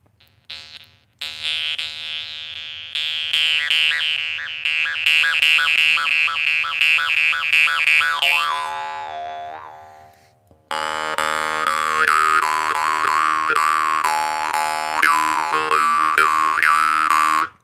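A jaw harp is played solo in a rhythmic, twangy, buzzing pattern, with a sustained drone and shifting overtones, loud and close, pausing briefly around the middle before resuming at full volume.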